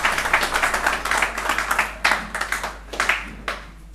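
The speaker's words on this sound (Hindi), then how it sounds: "तो शानूर आलम का आप लोग तालियों से इस्तकबाल कीजिए" Audience at a conference on social and educational awareness claps in a loose, uneven burst of applause, with sharp individual claps standing out for several seconds.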